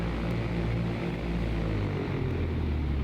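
Light aircraft propeller engine idling in the X-Plane 11 flight simulator, a steady, loud low droning hum with a throbbing pulse that holds constant throughout, with no voices over it.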